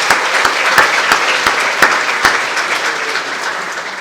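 A crowd applauds steadily throughout at a women in leadership luncheon, dense clapping with a few sharper individual claps standing out, fairly loud and close.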